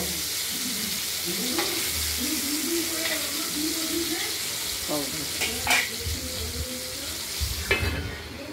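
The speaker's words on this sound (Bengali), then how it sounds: "মাছগুলো এবার একটু ভাজা করে নেব" Pieces of rohu fish fry in hot oil in a wok with a loud, steady sizzle, mixed with occasional utensil knocks and faint bits of voice in the background.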